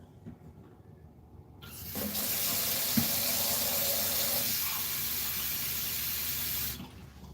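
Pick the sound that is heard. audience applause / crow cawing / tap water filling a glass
tap water filling a glass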